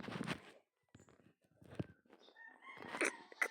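A rooster crows amid scattered clucks and rustling, the calls coming in uneven bursts from a moderate distance, with no talking.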